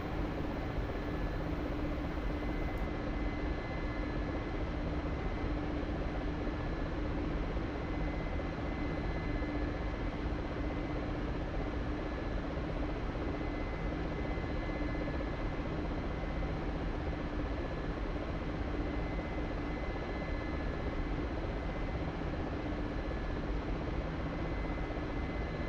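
A Mi-24 Hind helicopter in the DCS flight simulator flies low over the sea off the Syrian coast near Latakia, its rotor and engine roar a steady, dense, unbroken drone throughout with no voices.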